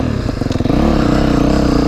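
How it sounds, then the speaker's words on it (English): A dirt bike engine loud and close, sputtering unevenly at first before settling into a steady, throbbing idle rumble. "I have a dirt bike"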